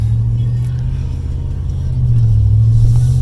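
A 2020 Ram 1500 eTorque truck engine drones low and loud from inside the cab while driving, its rumble swelling slightly as it revs up toward the end.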